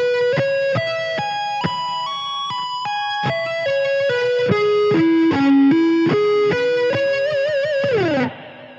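An electric guitar with effects slowly sweep-picks seventh arpeggios, notes rising and falling, ending on a wavering, held note that fades.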